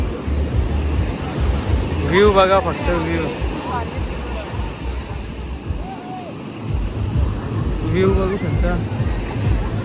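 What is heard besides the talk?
ocean waves on a Goa beach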